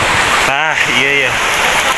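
Steady rain falls loud and close during outdoor preparations for a Sundanese wedding in a village, with a brief voice heard over the hiss.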